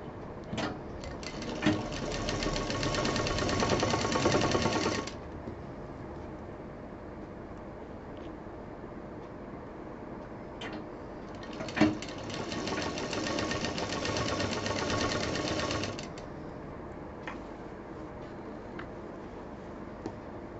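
A sewing machine stitches a straight seam across pinned patchwork fabric in two bursts of rapid, even whirring, each lasting several seconds, separated by a quiet pause with small handling clicks.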